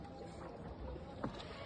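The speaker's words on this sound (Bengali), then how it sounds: "সবাই এখন আমরা শিকারা রাইড করছি।" Shikara boat gliding on Dal Lake in Kashmir, a soft steady wash of water and wind around the hull, quiet and continuous with a faint splash of a paddle stroke.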